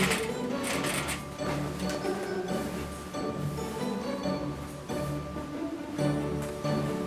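A sewing machine runs a continuous stitch along the placket opening of a girl's Regency dress, a steady close whirring buzz with brief pauses and no talk.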